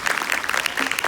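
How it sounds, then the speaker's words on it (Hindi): Brief applause from the audience at a girls' school Republic Day celebration after a musical performance, a dense crackle of many hands clapping at steady volume. "तो आपकी तालियों के शोर से पता लगना चाहिए कि आपको कितनी अच्छी लगी।"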